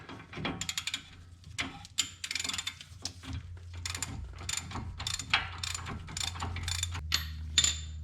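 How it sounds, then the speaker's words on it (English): A socket wrench ratchets on the front strut bolts of a 2012 Nissan Sentra, giving close, loud bursts of rapid metallic clicking in uneven runs, with clanks between strokes. "once you get it loose, you can use a socket wrench"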